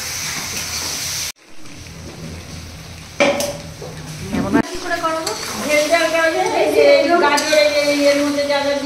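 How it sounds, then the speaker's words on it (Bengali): Meat stir-fried with spices in a pan at a year-end picnic, a loud hissing sizzle with stirring and pan scrapes that builds over the clip, with voices talking over the cooking. "মশলাটা লেগে লেগে যাচ্ছে, মাংস বেশি করে কষাতে হবে।"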